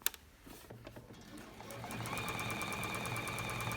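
A domestic sewing machine stitches around the folded edge of a pocket on a dress, starting with a few slow clicks and then settling into a fast, steady, even whir that runs to the end.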